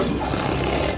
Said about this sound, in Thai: ราชสีเริ่มที่จะคำรามดังขึ้นเรื่อยๆ